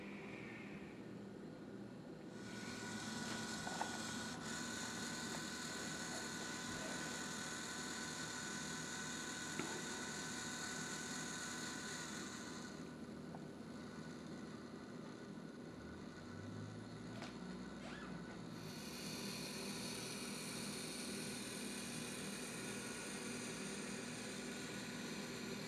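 A 2 RPM motor and a 10 RPM slide motor drive a camera slider rig, giving a steady mechanical whine and hum that drops out midway, then resumes for the rest of the stretch at even, moderate volume.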